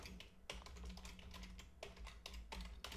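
Close, quiet clatter of typing on a computer keyboard, irregular keystrokes in quick bursts with short pauses.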